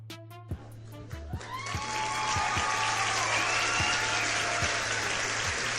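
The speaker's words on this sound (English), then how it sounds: "Can we get a hand clap?" Hand clapping that swells from a few scattered claps into steady, dense applause, heard over a low electrical hum with sharp tapping clicks punctuating it.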